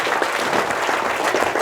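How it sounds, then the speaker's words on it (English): Audience applause for Neil at an offroad festival interview session, a dense, steady clapping from a crowd, loud and continuous with no speech. "A huge round of applause for Neil."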